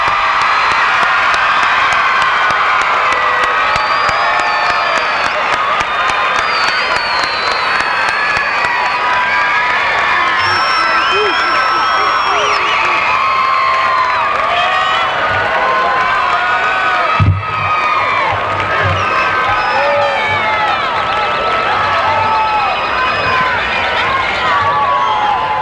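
A large high school commencement crowd applauds and cheers the graduating class, a continuous loud roar of clapping mixed with whoops, shouts and excited voices throughout.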